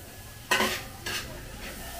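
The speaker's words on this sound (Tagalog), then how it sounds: "Lagay po tayo sibuyas." Onions going into a hot pan with garlic and being stirred, a bright sizzle flaring in two or three bursts over a steady frying hiss, close and without talk.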